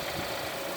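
A 2016 Kia Sorento LX four-cylinder engine idles steadily with the hood open, a loud, even, close mechanical hum and whir with no breaks.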